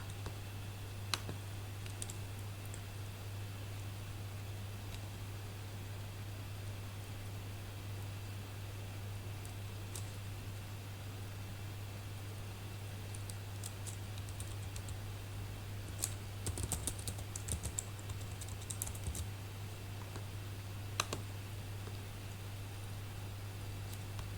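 Quiet clicks of typing on a computer keyboard come in sparse, irregular bursts over a long stretch, with a steady low electrical hum beneath and a faint cluster of faster keystrokes near the middle.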